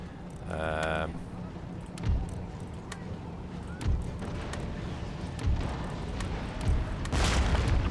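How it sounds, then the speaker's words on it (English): Cannon fire in the video game Total War: Empire, with several deep booms spaced a couple of seconds apart over a low battlefield rumble. A short tonal horn-like call sounds near the start. "Good, guns are going."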